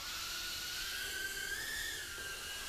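Small JJRC H36 tiny whoop drone lifting off, its tiny propellers giving a steady high-pitched whine that rises slightly in pitch and stays continuous throughout, close by with no talking.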